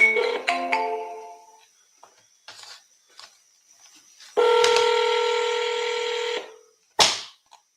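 Telephone keypad dialing tones, several short beeps in a quick sequence, then a long steady tone and one final short beep, all close and clear with no talking.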